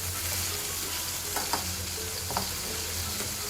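Tomatoes sauté in a pan with a constant close sizzle and hiss, broken by a couple of faint stirring scrapes, and no voices over it.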